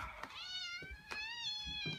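A cat meows repeatedly in a bedroom shared with a pigeon, giving several clear, close, rising and falling calls one after another, with no talk.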